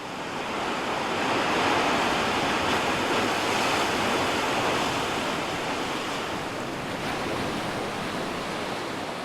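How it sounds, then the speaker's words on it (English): Ocean surf pounds steadily, a dense, continuous roar of breaking waves that stays loud and even throughout, with no voices. "the way the pounding surf would lull me to sleep at night"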